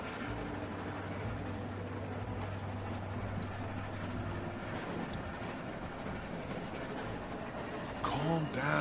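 A moving train in The Walking Dead video game gives a steady rolling rumble with a low mechanical hum throughout. A brief voice-like burst rises near the end.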